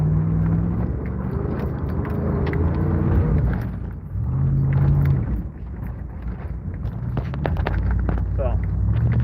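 A lifted V8 Chevy Blazer on 35-inch tires climbs a short dirt riser, its engine rumbling and revving in steady surges close to the microphone, with wind buffeting throughout.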